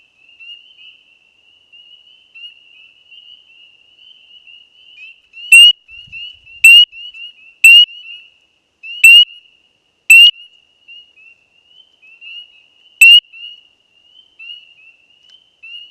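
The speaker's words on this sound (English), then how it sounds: "These frogs are really hard to find because they can throw their voices or something" A frog in Francis Marion National Forest gives a thin, steady high-pitched trill, punctuated by several sharp louder clicking notes in an uneven series, close and alone.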